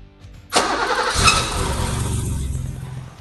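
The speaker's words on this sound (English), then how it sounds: "So let's start her up." A car engine cranks and catches, then settles into a steady idling rumble. It is loud and close, heard alone after a quiet moment, with the engine being warmed up for an oil change.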